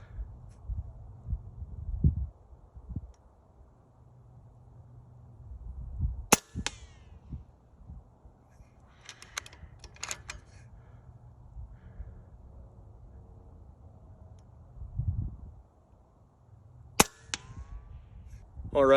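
FX Impact Mark 3 air rifle firing on an outdoor range: two sharp, quiet snaps about ten seconds apart, with a fainter click between them, over a low rumble of wind.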